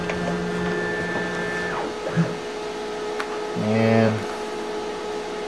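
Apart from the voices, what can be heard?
tool changer machine moving to tool change position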